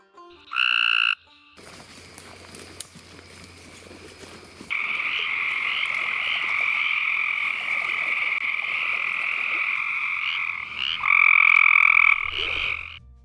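A Cope's gray tree frog calls loud and close: short buzzy trills, then a long sustained pulsing trill, ending with another brief burst.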